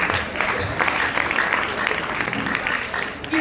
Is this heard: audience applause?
yes